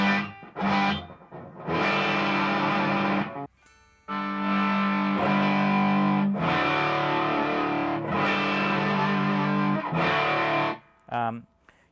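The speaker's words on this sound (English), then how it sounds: "you're going to get like a whole heap of a real heavy distorted sound" Loud, heavily distorted electric guitar chords through a VHT 20-watt amplifier, ringing out in several long sustained strums separated by short pauses.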